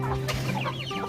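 A very large Shamo chicken on a rural farm clucks in a brief, close burst of short throaty calls, with a steady low hum behind it.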